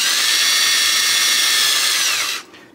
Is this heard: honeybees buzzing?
no